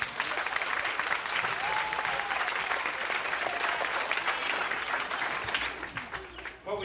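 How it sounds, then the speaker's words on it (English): A 1988 sports banquet audience at All Saints gives a round of applause for the fifth-grade team, producing dense, sustained clapping from a large crowd that fills the room from start to finish. "I think everybody should owe them a round of applause"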